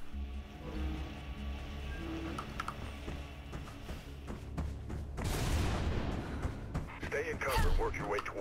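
Sniper gunfire on the top deck of a boat in Mirror's Edge, heard as scattered sharp cracks and booms over a constant game soundtrack, with footsteps and clatter and a louder burst near the end.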